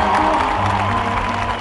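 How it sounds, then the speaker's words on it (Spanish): A concert audience gives loud, dense applause, a continuous wash of clapping mixed with crowd noise that holds steady throughout. "Un aplauso, por favor"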